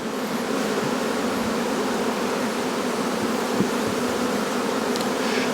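Honey bees buzzing around a beehive at Blue Ridge Honey Co. in mid May, a dense continuous hum of many insects close by, steady throughout with faint passing tones and no talking.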